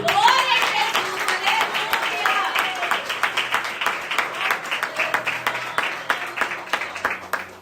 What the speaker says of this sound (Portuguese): Quem pode aplaudir a Deus?